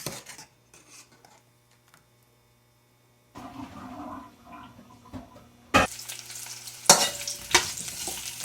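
Braised lamb leg meat sizzles in a hot pan after a quiet stretch, with loud crackling bursts and clanks of stirring building toward the end.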